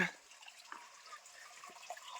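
Water trickles out from under rocks on a hillside at Yercaud, a faint, light gurgle and scattered drips close by, with no talking.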